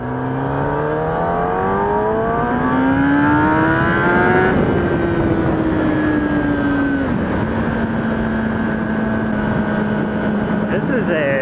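Kawasaki ZX10 sport motorcycle engine revving loudly and continuously, pitch climbing steeply then easing back and settling into a steady high drone, heard up close with a person's voice over it.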